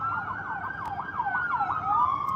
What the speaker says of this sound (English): Police, sirens,